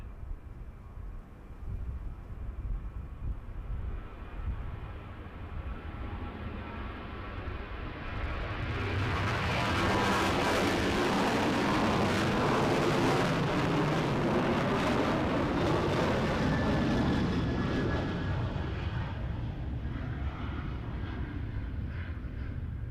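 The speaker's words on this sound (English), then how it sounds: "Speaking of Ryanair, off to Gothenburg. 737-800." A Ryanair Boeing 737-800 departs Edinburgh Airport for Gothenburg, its jet roar building from a distant rumble into a loud, broad, sustained blast that slowly fades as it climbs away.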